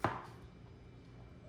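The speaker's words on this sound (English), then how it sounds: "we're gonna start by cutting this guy in half" A knife cuts a chicken in half on a board in a home kitchen: one sharp chop at the start, then a quiet, fading tail and faint background.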